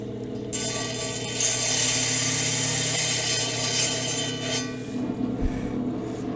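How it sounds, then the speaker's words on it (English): Diamond blade saw cutting glass murrine with a wood block behind it, a continuous close grinding whine for several seconds that tapers off near the end, no talk. "so I don't run the diamond blade into the aluminum at the end of a cut"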